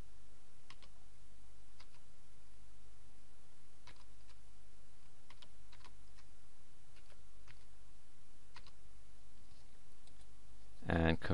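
A password typed on a computer keyboard as sparse, light key clicks spread at irregular intervals, faint over a steady low hum, ending in a louder clunk.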